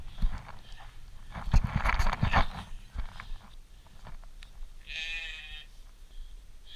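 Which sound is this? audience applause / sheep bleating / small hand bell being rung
sheep bleating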